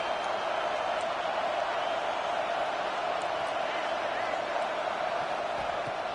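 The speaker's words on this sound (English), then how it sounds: "Listen to this crowd just shaking the girders of this place, trying to help their defense." Stadium crowd roaring at a football game as the defense takes the field, a constant dense wall of cheering noise that holds steady and loud throughout.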